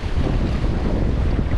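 Strong wind roars steadily across a rocky seashore during rock fishing, a loud, constant buffeting rush of air that fills the whole moment without pause.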